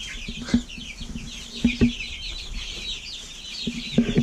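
Chickens clucking in short, scattered bursts while they peck and scratch through wood chips, a few louder calls standing out over a steady background of faint bird chirps.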